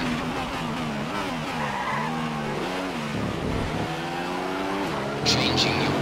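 Race cars in F1 2015 during a GP2 race in Germany: a loud, close engine note rising and falling through gear changes, with tire squeal and skidding, and a voice talking over it.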